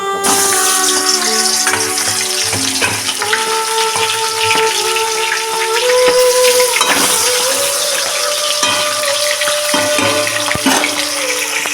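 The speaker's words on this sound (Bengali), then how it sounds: "এবার মাছের মাথাটা আমি ভেজে নেব কড়াইতে দিয়ে দেবো" A salted, turmeric-rubbed catla fish head fries in oil in a wok, giving a loud, steady sizzle with crackles and spits throughout, and no one speaks.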